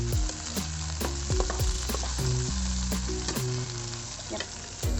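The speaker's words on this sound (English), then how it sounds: "Just fry them." Broccoli fries in a pan over lowered heat, giving a continuous crackling sizzle broken by sharp scraping stirs and clicks, with quiet music underneath.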